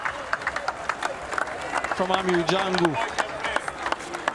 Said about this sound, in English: Teammates on their feet applauding.